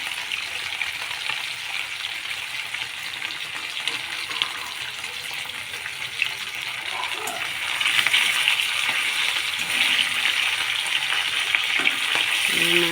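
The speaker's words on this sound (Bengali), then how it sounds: "এবার মাছ দিয়ে দিচ্ছি মাছ ভাজা ভাজা করতেছি" Snakehead (shol) fish frying in hot oil, a continuous crackling sizzle close by that grows louder and denser midway, with no talking.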